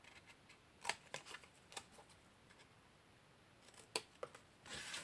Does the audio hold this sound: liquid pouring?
no